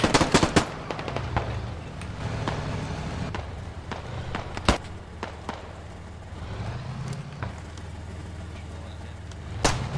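Enemy machine gun fire in the video game Squad comes as repeated sharp bursts and scattered shots over steady engine and battle rumble, with loud reports near the start, middle and end.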